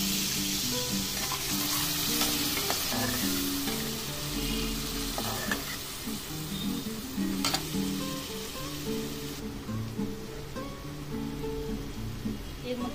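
Bhola fish coated in mustard paste sizzles in a pan just after a splash of water, a steady close crackling fry with soft bubbling pops and occasional stirring clinks, no voices.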